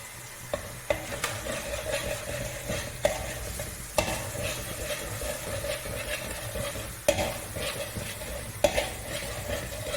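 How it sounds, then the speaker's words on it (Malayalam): Spices with ground cumin fry in a pan while being stirred, a steady close sizzle with scraping strokes and sharp clinks of the utensil against the pan at irregular intervals. "നല്ലോണം ഒന്ന് ഇളക്കി മിക്സ് ആക്കാം."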